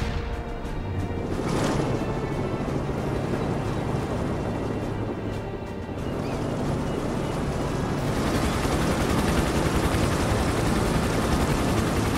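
A steady, loud video game helicopter rotor drone with engine whine, broadband and continuous throughout, a brief swell early on, no voices over it.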